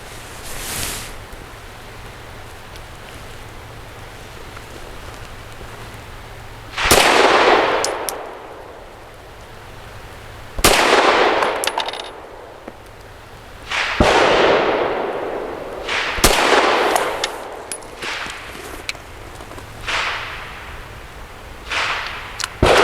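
An Arex Delta X pistol fires 100-grain lead-free ball ammunition at a shooting range: six or seven loud, sharp reports spaced a few seconds apart, each with a brief echoing tail, and no talking.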